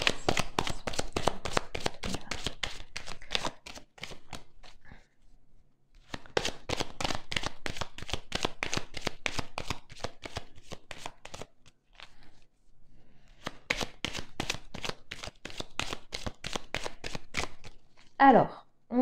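Tarot cards being shuffled and cut, a dense run of rapid riffling card flicks in three long bursts separated by short pauses, close and fairly loud, with a faint handling sound at the end.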